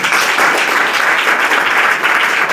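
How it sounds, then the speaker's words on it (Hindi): Loud, dense applause from a school audience honoring a young artist, continuous clapping filling the whole moment with no talk. "जोरदार ताली बजाइए इनके लिए।"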